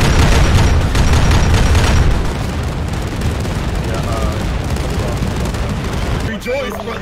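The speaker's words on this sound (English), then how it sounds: "That wall is shooting bolters at us." Heavy bolter fire pours from a fortified wall on the Blood Plains in Arma 3's Warhammer 40K setting, a dense roaring barrage of shots and explosions that eases toward the end, with voices faintly audible.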